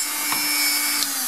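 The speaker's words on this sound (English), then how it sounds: "And this is actually a Dremel Multi-Pro" A Dremel Multi-Pro rotary tool drills a hole in a finished polymer bead, giving a steady high-pitched whine that runs through the whole short stretch, with a faint tick or two of contact.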